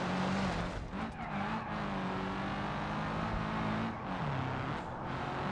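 A truck in a driving video game roars steadily at speed, engine droning loud and close with rising and falling revs, tires squealing through a handbrake turn toward a highway.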